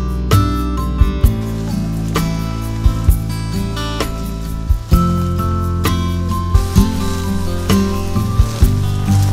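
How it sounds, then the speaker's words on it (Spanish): Rain falls through a forest in a highland frog habitat, a steady close patter with sharp drips landing at intervals, with no voices. "todos nos mojamos con la lluvia"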